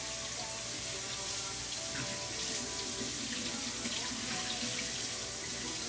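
Water runs steadily from a tap as tie-dyed fabric is rinsed in a sink, a constant close splashing rush with no talking.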